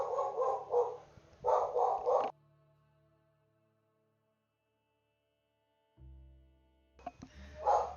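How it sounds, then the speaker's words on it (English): Dogs bark in quick clustered volleys, loud and close, with a long quiet gap before the barking starts up again alongside a low hum. "Now dogs are deciding they're starting to act up right now"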